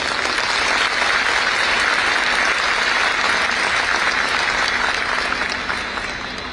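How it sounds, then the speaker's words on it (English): Thunderous audience applause at the National Space Science Symposium in India, a dense, loud wall of clapping from a large hall that holds steady and then starts to fade at the very end. "Let us all together welcome these excellent personnel with a thunderous applause."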